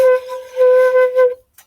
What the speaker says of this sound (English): That's called a B. And it sounds like this.